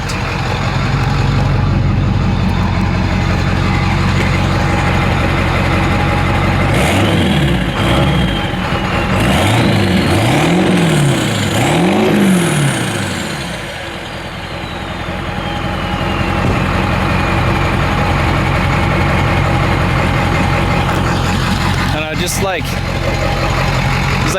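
A Ford F250 with a 7.3 Powerstroke diesel engine running at 15 pounds of boost, a loud steady rumble with a few short rising and falling revs partway through and a slight dip in level afterward.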